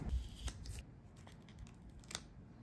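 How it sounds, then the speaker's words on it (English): Scissors snip off the registration marks around a printed sticker, several quiet, close cuts and crisp snips, with faint paper handling between them. "The next thing to do would be to cut off our registration marks because we don't need them anymore."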